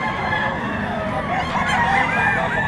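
Chickens cluck and call close by at a livestock auction market in Padre Garcia, Batangas, a busy overlapping chorus of fowl with a honking, crowing edge.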